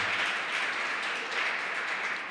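Church congregation applauding, a steady dense wash of clapping that fills the whole stretch at moderate level with no speech over it.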